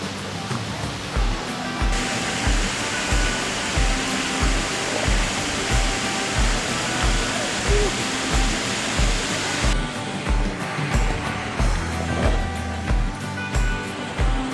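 A loud, steady roar of rushing water from Daranak or Batlag Falls fills the whole stretch, continuous and close, with no voices.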